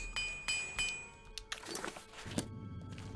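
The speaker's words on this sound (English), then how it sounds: "let me get a repair hammer and see if see what I need to repair in terms of my armor" A repair hammer taps a glass short sword in Oblivion: several spaced, clear metallic clinks and knocks, fairly faint, followed by a few softer clattering hits.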